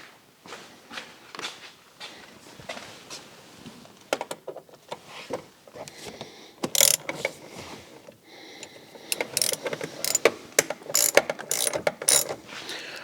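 Rapid, repeated clicking of a ratchet on a long extension backing out screws on a BMW F15, arriving in uneven bursts of close, sharp pawl ticks with brief pauses, growing denser and louder toward the end.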